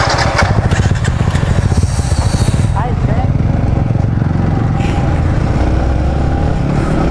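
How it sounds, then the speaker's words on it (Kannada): A motorcycle engine idles with a low, steady rumble on a morning ride near Jog Falls, running continuously under loud nearby conversation. "ನಿನ್ನ ಗಾಡಿ ಸೌಂಡ್ ಕೇಳ"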